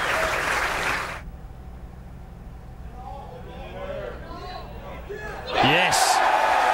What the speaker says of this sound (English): And the crowds here have gone wild.